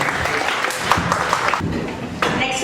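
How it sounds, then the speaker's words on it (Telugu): Audience applause at a live film-song music concert, a steady wash of clapping filling the whole stretch, with a brief surge near the end. "Please give round of applause."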